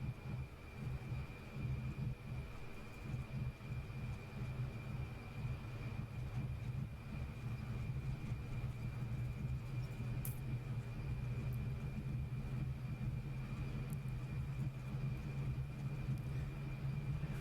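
An F-14 Tomcat's twin jet engines run at military power in the DCS World flight simulator, a steady low rumbling roar with a constant whine on top, continuous and unvarying.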